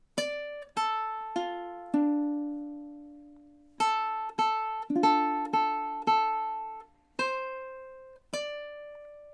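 A ukulele plays measures three and four of a song. The bright plucked strums and single notes ring clearly and decay in a steady, unhurried rhythm, solo and with no voice.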